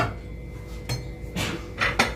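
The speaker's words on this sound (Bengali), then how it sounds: "কড়াইয়ে ঢাকনা খুলছি।" A metal lid lifted off a kadai of potol-aloo korma after resting, giving a few short clanks and clatters of metal against metal, close and moderately loud, with quiet pauses between them.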